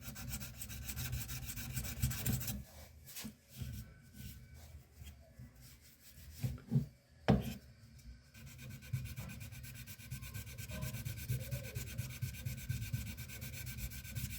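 A firearm is block sanded by hand with steady, close rasping strokes, a brief pause of lighter scratching in the middle, then continuous rubbing again, with no talking.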